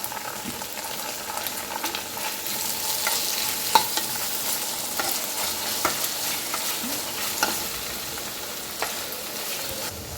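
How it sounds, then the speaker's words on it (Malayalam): Chilli chicken with tomato ketchup hisses steadily in a pan while a spoon scrapes and taps at irregular intervals, a dense close sizzle with no talking. "ഇതിലേക്ക് 2 സ്പൂൺ ടൊമാറ്റോ കെച്ചപ്പും ഒഴിച്ച് നമുക്കൊന്നും കൂടി മിക്സ് ചെയ്യാം."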